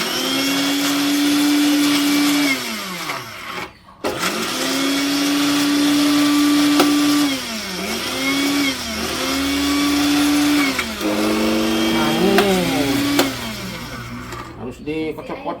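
Kitchen blender grinding a spice paste with oil for a jackfruit, petai and tofu curry, its motor whining in several long bursts that dip and rise in pitch as it strains, with short pauses and a stop near the end.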